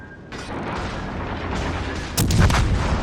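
A Vanguard battleship fires its final gun salvo in the naval game World of Warships Legends: a steady mechanical rumble builds, then a heavy boom lands near the end, with no talk.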